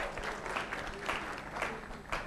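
A business-seminar audience gives a short round of applause, a steady wash of clapping with a few louder bursts, moderately loud and continuous throughout.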